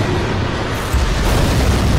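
Gunfire in a Skibidi Toilet animation, a loud, dense booming burst that fills the whole stretch with a heavy, continuous roar and a fresh jolt near the middle, with no voices.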